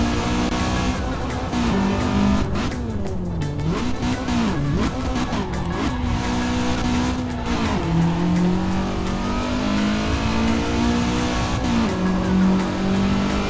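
Honda Civic 1.6 driving on a California highway in the racing game Assetto Corsa, its engine droning steadily and rising and falling in pitch through gear changes, loud and continuous throughout with no talking.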